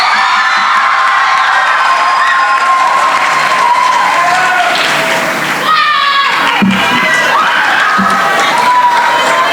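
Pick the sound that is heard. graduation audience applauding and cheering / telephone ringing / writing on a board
graduation audience applauding and cheering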